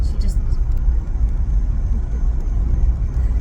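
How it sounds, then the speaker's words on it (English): Steady low road rumble and rushing wind from a moving car with a window down, loud and continuous throughout. "she loves driving with the window down."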